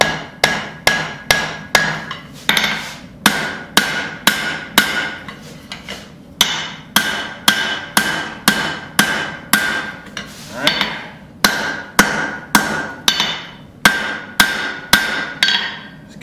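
Blacksmith hammering hot steel on an anvil while forging tongs, with sharp ringing blows in quick bursts of two or three, repeated steadily with brief pauses and no talk.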